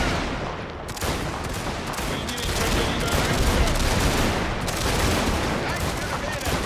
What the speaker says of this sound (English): Point blank range firing back and forth at each other.